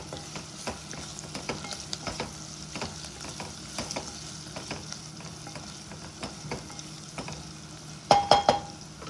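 Onions with turmeric frying in a pan for a bitter gourd curry: a steady soft sizzle under repeated spatula stirs and scrapes, close up, ending in a few sharp metallic clinks, no talk.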